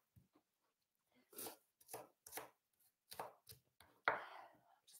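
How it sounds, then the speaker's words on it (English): A knife chops food on a cutting board while tabbouleh is made, giving about a dozen sharp, close thuds in an uneven rhythm against a quiet background, with no talking. "I'm really happy chopping away, working for my dinner tonight."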